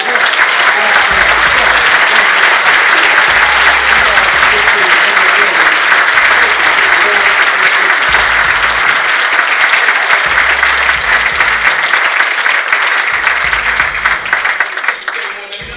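An audience at an award ceremony applauds loudly and continuously, a dense sustained wash of clapping that tapers slightly at the very end.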